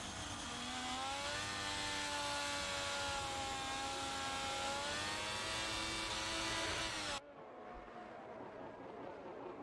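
A Formula 1 race car engine in the video game F1 2022 at the Spanish Grand Prix, a loud steady high-pitched whine holding near constant before cutting off abruptly, leaving a quieter engine hum.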